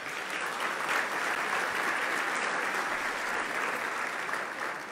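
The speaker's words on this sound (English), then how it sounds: "Please give them all a round of applause." A luncheon crowd at a winter meeting's opening plenary applauds its sponsors, an even, continuous wash of clapping from many hands at moderate distance with no break.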